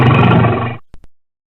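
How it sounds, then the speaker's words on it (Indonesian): Polar bear giving a loud, close roar that lasts under a second and cuts off sharply, followed by two brief grunting snorts before silence. "beruang kutub teman-teman."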